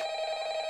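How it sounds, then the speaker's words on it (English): Telephone ringing from behind a wall in a living room in a VR horror game, a steady electronic ring held through the short moment with no talk over it. "The phone's just ringing behind the wall."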